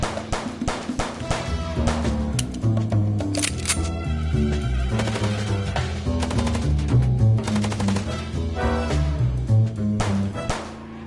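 Rapid gunfire rattles through the video game Chicken Police, with dense bursts of sharp shots and clattering impacts layered over a low musical or ambient bed, loud and close throughout.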